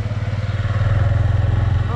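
A motorcycle engine rumbles close by with a steady, pulsing beat on a hill road leading to Santi Jhara waterfall near Dharakot in Ganjam.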